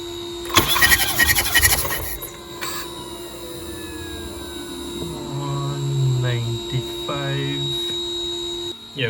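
A BMW B48 engine cranks over during a compression test, with a starter whirring loudly for about a second and a half near the start. A steady electrical hum and quieter workshop sounds follow, with a brief rising whine later on.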